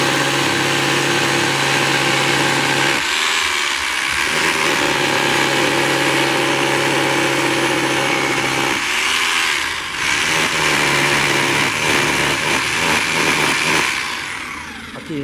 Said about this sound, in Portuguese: Agora, deixa eu pôr no martelete aqui.